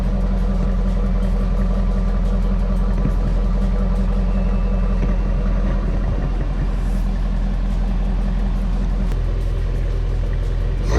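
A 2017 Camaro ZL1 idles steadily from close behind at the exhaust, giving a loud, continuous deep rumble with no talk.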